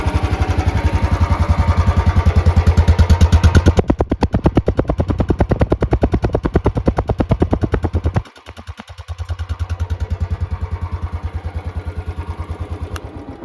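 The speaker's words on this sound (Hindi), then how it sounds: "ये है स्टैंडर्ड 350 का साउंड।" A Royal Enfield Standard 350 kick-start motorcycle with stock exhaust idles loud and close, a rapid, even thumping beat that briefly dips and stutters near the end before settling back into its steady rhythm.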